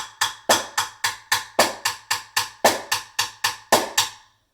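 A simple drum beat plays alone, up close, with a hi-hat and a snare on beats 2 and 4. About fourteen crisp, sharply decaying hits come in a steady rhythm, and every other main beat lands noticeably harder.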